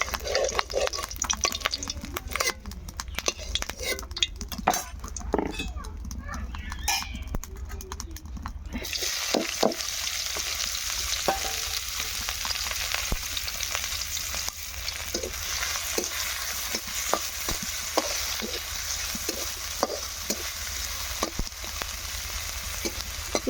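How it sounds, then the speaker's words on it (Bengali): Onions sizzle and fry steadily in a pan over a hot clay stove, a continuous dense crackle with scattered sharp pops and occasional stirring scrapes throughout. "পেঁয়াজটা ভাইজা রাখতেছি মাটির চুলার আগুন হচ্ছে অনেক তাপ থাকে"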